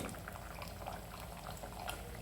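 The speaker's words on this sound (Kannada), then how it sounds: "ನೋಡಿ ಕುದಿಯೋಕ್ಕೆ ಶುರು ಆಯಿತು" A pot of biryani coming to the boil gives off a steady bubbling simmer with soft pops and gurgles throughout.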